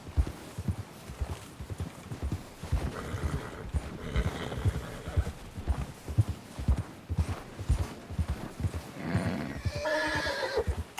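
Horses clip-clop along at a fast, steady gait in the Western game Red Dead Redemption, hooves thudding in a continuous rhythm. Near the end a horse lets out a clear, loud neigh.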